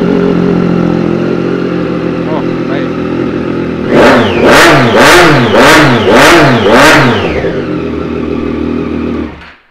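A dark 2016 Triumph Street Triple 675R motorcycle idles with a steady rumble, then the throttle is blipped six times in quick succession, each rev rising and falling sharply before settling back, loud and close.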